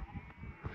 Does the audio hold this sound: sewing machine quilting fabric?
no